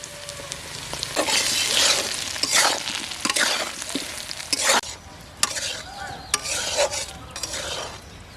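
Mutton curry frying and being stirred in a pan with turmeric and chili powder, a steady close sizzle with scraping spatula strokes and a few sharp knocks against the pan.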